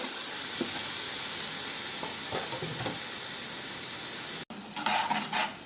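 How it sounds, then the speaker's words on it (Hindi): Masala spices fry in oil for beef chatkara karahi, a continuous close sizzle with scraping stir strokes, briefly cutting out before returning louder and more bubbly. "अब मैं सारा मसाला ऐड कर दूँ इसमें और मसाले को फिर अच्छा सा भूनेंगे"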